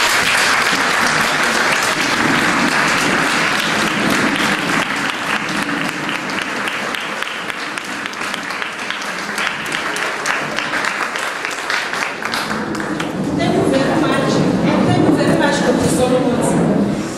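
Audience at a university science faculty maths club launch clapping, a sustained loud roll of applause that dips slightly midway and swells again near the end.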